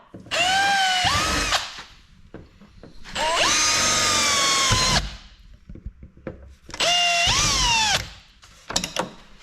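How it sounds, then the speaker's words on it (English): A power drill whirs in three sustained bursts, drilling into UTV lower doors, its motor pitch rising and falling, with brief rattling and handling noises in the gaps. "here's my drill bit. I'm gonna let her rip"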